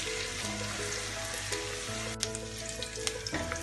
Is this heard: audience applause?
no